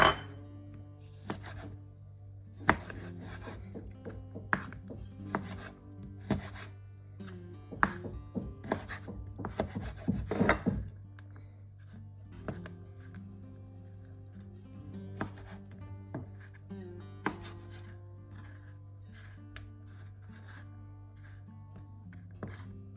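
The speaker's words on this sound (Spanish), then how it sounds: "lo primero que vamos a hacer es picar los dátiles." A knife chops dates on a cutting board, tapping repeatedly in irregular bursts, close and fairly quiet over a steady low background hum.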